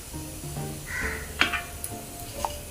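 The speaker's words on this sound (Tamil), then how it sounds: "சோம்பு பொரிஞ்சதுக்கப்புறம்" Fennel seeds splutter faintly in hot oil, a soft sizzle with a few small sharp pops and light clinks, quiet and close.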